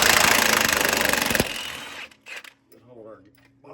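A wrench works at a steering gearbox bolt on a 1999–2004 Ford Super Duty, giving a dense, close metallic rattle that stops abruptly, then brief clinks and a low voice follow.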